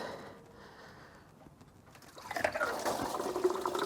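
Coolant from a Renault Clio 1.2 16v starts out as a quiet trickle and swells into a steady, splashing stream that falls into a drain pan close by.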